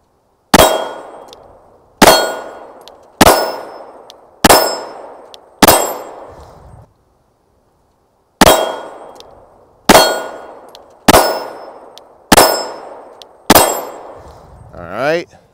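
Kiger 9C Pro pistol rounds striking a steel target, ten loud ringing clangs in two strings of five, each with a sharp attack and a short metallic decay, spaced about a second apart.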